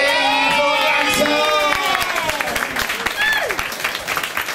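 An audience at a live show claps along in a dense, continuous wash of applause, with voices and a few shouts rising over it.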